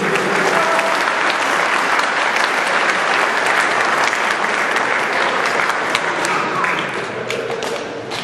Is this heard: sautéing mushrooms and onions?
no